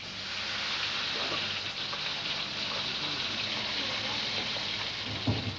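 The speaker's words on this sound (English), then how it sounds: "The fish has been salted and is simply fried" Steady hiss and crackle of salted fish frying in a pan, Cantonese style, a dense sizzle that continues without pause, with a brief clunk near the end.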